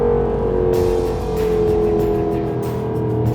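A Jaguar F-TYPE R convertible's 5.0 supercharged V8 revving loudly in a sustained, steadily shifting engine note with crackles on top, close and continuous with no talk.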